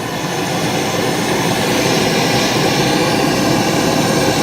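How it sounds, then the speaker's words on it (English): A blacksmith's forge roars steadily while a pair of earmarker pliers heats toward red hot, a loud, even rushing blast of air and flame that holds constant with no talk over it. "And now we're going to pop them into the forge"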